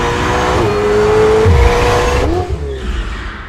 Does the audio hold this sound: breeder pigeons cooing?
no